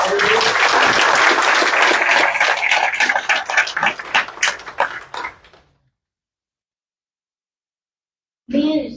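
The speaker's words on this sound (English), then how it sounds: "Robinson, give him a round of applause" Loud, dense applause for Ben Robinson at a Yancey County commissioners meeting, continuing about five seconds before cutting to silence, with a voice starting near the end.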